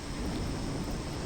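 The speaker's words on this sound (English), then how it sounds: "Luckily, the rain decided to actually show up for once." Steady rain hisses with a low rumble of thunder underneath in the video game RimWorld, a dense, even wash of weather sound with no voices.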